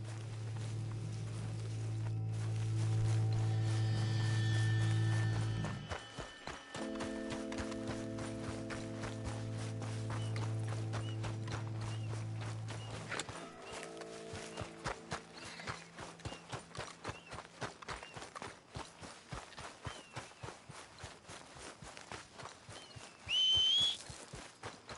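Horse hooves clip-clop in Red Dead Redemption 2, first under a droning musical tone, then as a steady, close gallop rhythm that carries on alone to the end, with a brief whistle near the close.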